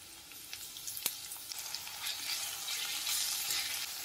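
Chopped chilies and garlic sautéing in a pan with basil, a faint, quiet sizzle that builds gradually, with a sharp tap of a utensil early on and occasional stirring scrapes.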